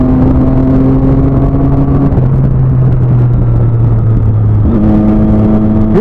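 Motorcycle accelerating in a short pull-off, a steady loud engine drone with rising and falling tone and a brief gear change near the end, with no voices.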